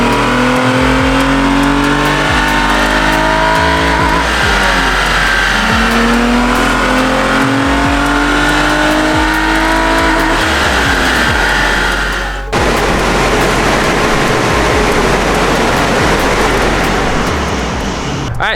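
A Nissan 350Z with bolt-on upgrades, new spark plugs and coil packs, roars on a dyno, its engine climbing through repeated loud rising pulls, then holding a harsh high-rev blare near the end.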